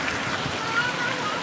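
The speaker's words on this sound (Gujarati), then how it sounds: "વરસાદ તો એટલો ને એટલો જ ચાલુ છે." First monsoon rain falls in a steady, even hiss of drops with a faint voice beneath it, heard briefly and without pauses.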